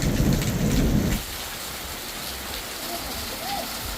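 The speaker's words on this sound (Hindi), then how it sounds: "अब देखिए बारिश भी तेज हो रही है, साथ में हवाएं भी तेज चल रही है, और साथ साथ में आसमान जो गर्जना कर रहा है ना," Heavy rain pours steadily in a village during a storm with strong wind, a loud close wash at first that drops to a softer steady patter, with faint rumbles of thunder in the background.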